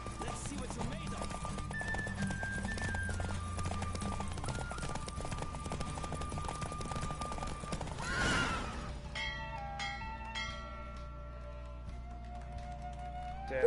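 In The Witcher 3: Wild Hunt, rhythmic hoofbeats of a galloping horse in a race drum under music, then a loud whinny cuts in before the pounding continues with brighter musical tones.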